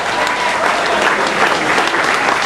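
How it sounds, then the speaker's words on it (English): An audience on a backlot studio tour applauds the actors after a staged scene, with loud, continuous clapping throughout that stays even and close, and no voices on top. "Let's give Actors a nice round of applause."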